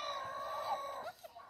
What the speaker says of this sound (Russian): А тут и обычные курочки и петушки.